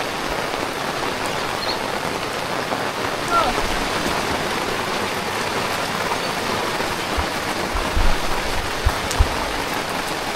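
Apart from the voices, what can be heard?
rain falling outside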